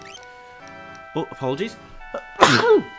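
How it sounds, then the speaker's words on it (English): One sharp, loud human sneeze bursts over soft, somber music while Final Fantasy VI is played; someone speaks briefly just before it. "That was a sneeze."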